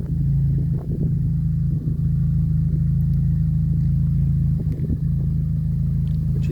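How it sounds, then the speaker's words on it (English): Steady, loud low rumble of a 2019 Morgan Plus 4 fitted with the Clubsport upgrade (ECU reflash and sports exhaust), idling or running continuously close by with small throttle variations and no talk. "Has a Clubsport upgrade to it, hence why the exhaust note has got a nice ring to it."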